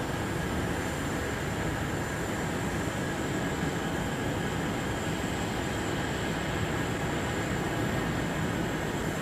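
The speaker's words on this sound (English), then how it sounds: "Dreamlifter heading off to get some wings for the 787." A Boeing Dreamlifter jet roaring on departure from Anchorage airport, a loud, steady, broadband engine rumble with a high tonal whine running throughout, no speech.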